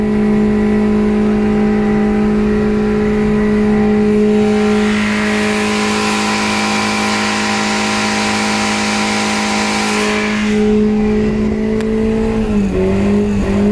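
A car burns rubber in a burnout, the engine holding a loud, steady high-rev drone with rising tyre squeal through the middle, then the revs dip and recover near the end.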